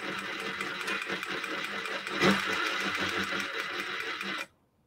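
A Merrow sewing machine stitching around fabric corners, a loud, close, steady mechanical whir running continuously for about four and a half seconds before stopping abruptly.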